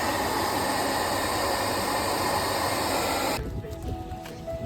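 Steady broadband rumble inside a train carriage travelling toward Lund, a continuous loud wash of rail and wheel noise that drops abruptly to a quieter, thinner hum near the end, with no voices.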